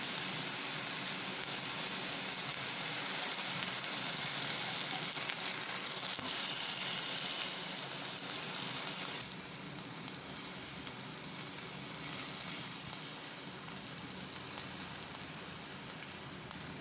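Pineapple slices grilling in a pan give a loud, steady sizzle that holds for a long stretch, then drops to a softer crackle partway through, with no talking.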